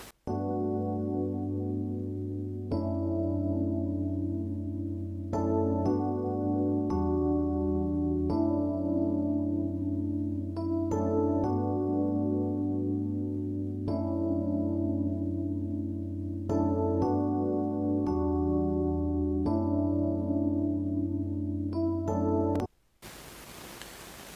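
A mellow electric piano plays a sequence of sustained chords with a wide, shimmering chorus and roomy reverb tail, ending abruptly in a brief noise burst.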